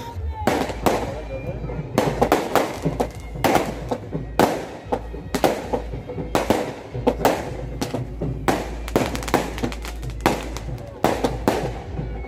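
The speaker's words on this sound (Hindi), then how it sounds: "आतिशबाजी हो रही है जी," A long barrage of fireworks at a village wedding celebration, sharp bangs and crackles firing in dense rapid clusters over a steady low rumble, fairly loud and nearby.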